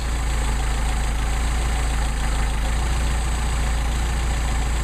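A Mercedes 190SL engine idles after its Solex carburetor idle screw is turned up, a steady, loud, even low rumble with a slightly raised idle and no talk.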